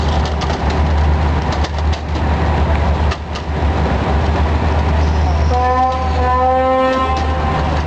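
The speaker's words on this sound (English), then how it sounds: "What Hanoi railway station looks like at 5 o'clock in the morning." A train rumbles and clatters at Hanoi railway station around 5 a.m., and near the end a drawn-out tonal horn or whistle sounds over the noise, with some voices in the background.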